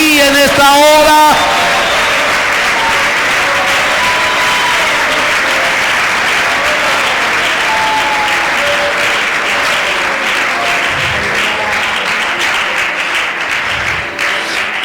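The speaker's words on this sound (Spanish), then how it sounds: "Alguien que aplauda su gloria en esta mañana." Congregation at a Sunday school service applauding, loud sustained clapping filling the room, with a voice and musical tones at the start and faint vocal sounds underneath.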